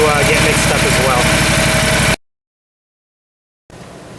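Toro Z-Master zero-turn mower engine idling to warm up for an oil change, a steady loud mechanical drone that cuts out abruptly midway, then returns more quietly after a short silence.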